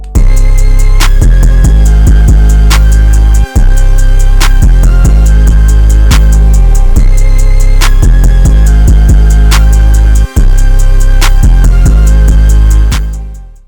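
Loud hip hop beat with booming 808 bass, punchy kicks and steady crisp hi-hats repeating in a looping pattern, cutting out at the end.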